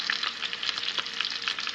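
Close, steady crackling and sizzling of fish frying in hot oil in a pan, with tiny pops throughout and no talking.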